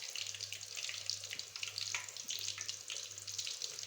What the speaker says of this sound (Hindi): अब हम इसको घी में डाल लेते हैं।